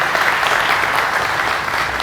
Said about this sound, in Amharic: ከዚህ በላይ ማጨብጨብ ይከብዳል